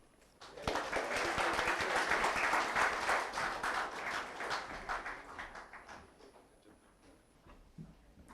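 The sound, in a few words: audience applause at inauguration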